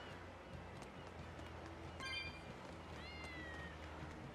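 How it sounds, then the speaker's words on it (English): Cats meow in Tales of Berseria's Eastgand harbor: two faint, short meows rise over a constant low ambient hum. "I hear a kitty."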